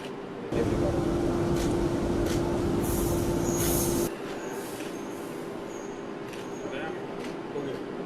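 A Nagpur Metro train departs, rumbling loudly with a steady mechanical hum for a few seconds, then the noise drops to a quieter background drone.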